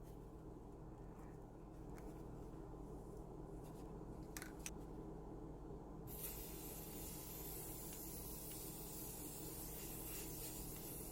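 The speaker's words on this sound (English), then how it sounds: "Now I'm going to spray paint them in the color black." Aerosol spray paint in black hissing steadily onto plastic drinking straws for a DIY abstract home decor craft, a continuous broadband spray that grows louder midway and runs unbroken, with no talking.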